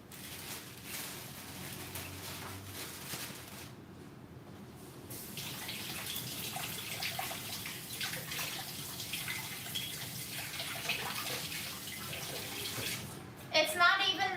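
Water runs steadily from a tap in a home kitchen where a mushroom stir-fry is being made, a constant hiss and splash throughout with a brief louder clatter near the end and faint voices underneath.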